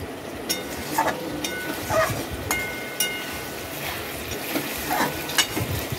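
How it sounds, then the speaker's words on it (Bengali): Fried pointed gourd being stir-fried in spice paste in a pan, with a steady sizzle and intermittent scraping strokes of a spoon at a gentle rhythm, close up and without talk. "এবার এর মধ্যে ভেজে রাখা পটলগুলো আমি দিয়ে দেব। পটলগুলো দিয়ে ভালোভাবে কষিয়ে নেব।"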